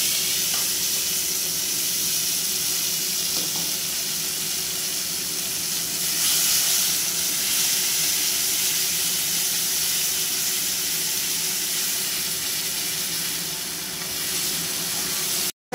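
Spices sizzling and frying steadily in a pan while being cooked until red, a continuous close hiss with gentle crackle throughout, no voices.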